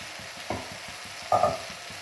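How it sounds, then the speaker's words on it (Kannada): Ground masala for chana masala fries in a pan with a soft, steady sizzle, a rhythmic scraping of a stirring spoon, and two louder clatters against the pan. "ಇದು ಕೂಡ ಸರಿ ಹಸಿ ವಾಸನೆ ಹೋಗೋವರೆಗೂ ಫ್ರೈ ಮಾಡಬೇಕು."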